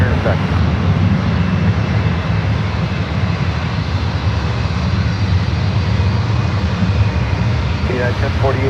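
Loud, continuous aircraft engine roar at San Francisco SFO airport, a steady broadband rush from planes nearby on the airfield that covers the whole stretch, with faint radio chatter mixed in.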